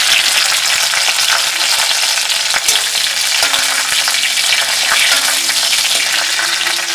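Fenugreek seeds and dried red chillies crackle in hot oil in a pan for a Kerala eel fish curry, giving a loud, dense, unbroken sizzle heard close with faint pops and no talk.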